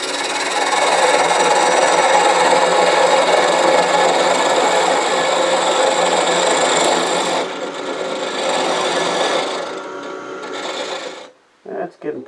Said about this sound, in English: I think I'm going to switch to 3/8 inch spindle gouge